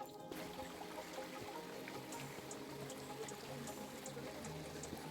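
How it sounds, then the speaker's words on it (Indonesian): A shallow forest stream trickles and babbles steadily in a protected woodland in the Ardennes near Furfooz, Belgium, a faint continuous wash of water with no talk over it. "Dengerin ini suara gemericik air."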